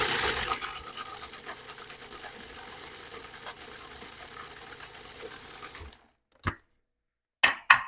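Salad dressing ingredients are whisked or blended together in a steady continuous churn, which stops abruptly near the end, followed by a few brief clinks and scrapes.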